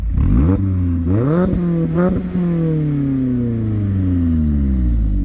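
A 2022 Mazda Miata four-cylinder with an aftermarket exhaust revs loudly and close, rising in two sharp blips, then holding a long, slowly falling note as the revs settle, with no talking.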